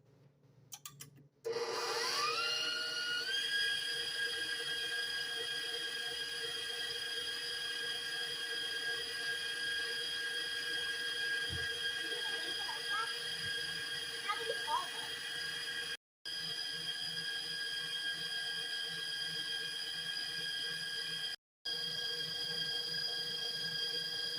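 An electric mixer whips marshmallow mixture on high speed, starting up and then holding a steady, loud motor whine with a faint rattle. It runs continuously, broken only by two very brief dropouts.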